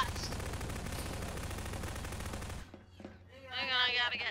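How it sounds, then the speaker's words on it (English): Rapid automatic gunfire from a Christmas gun mod in Garry's Mod, a dense continuous burst that cuts off abruptly, followed by a voice talking. "are you shooting the Christmas gun mod?"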